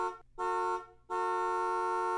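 Repeated car horn honking: two short blasts and then a long sustained one, loud and near, over a faint low hum.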